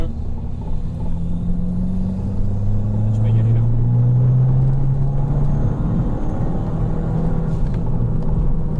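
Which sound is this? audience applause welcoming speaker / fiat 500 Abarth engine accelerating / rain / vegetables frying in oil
fiat 500 Abarth engine accelerating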